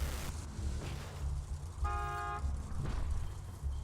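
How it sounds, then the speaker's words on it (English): A car horn honks once, briefly, in the Borderlands 2 video game. It sits over a steady low vehicle engine rumble and game ambience. "Just drive up and honk your horn."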